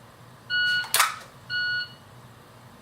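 Two sharp electronic shot timer beeps, each about a third of a second long, a second apart, with a brief bang between them, during dry-fire draw practice.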